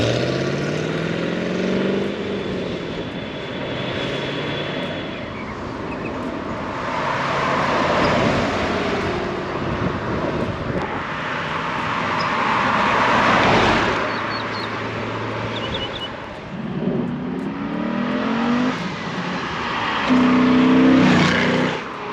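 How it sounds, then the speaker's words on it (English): A 1967 Corvette with an LS3 engine and Tremec transmission drives on a test run, its engine droning steadily with rising and falling revs and a loud rush of wind and road noise throughout, close and continuous. "Hope you guys enjoyed that test drive"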